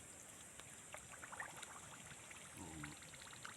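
Water trickling and pouring from a freshly dug channel into a drying fish pond outdoors, a faint steady flow with light splashy bursts.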